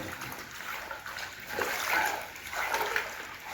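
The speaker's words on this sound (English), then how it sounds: "Sounds like water coming in somewhere in infill." Water trickles and splashes softly in a quiet underground tunnel beneath Bristol by the River Frome, swelling a couple of times over a faint hiss.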